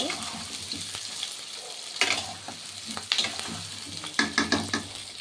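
Onions, ginger and whole spices fry in a pan for a dry, water-free chicken kosha: a dense close sizzle with intermittent spoon scrapes that grow more frequent and clattery toward the end.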